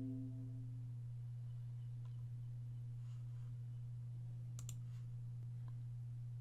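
A couple of faint, crisp computer mouse clicks sound close together over a steady low electrical hum in a quiet room.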